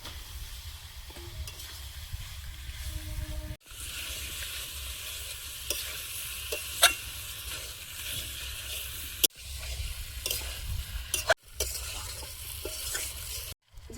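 Taro dropped into spiced oil fries with a steady, close sizzle, broken by brief pauses and sharp clacks of a utensil stirring the pan.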